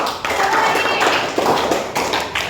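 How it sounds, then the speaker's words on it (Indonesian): A small group claps hands in a classroom-style counseling practice session, producing a few short uneven bursts with brief pauses between them. "Kasih tepuk tangan."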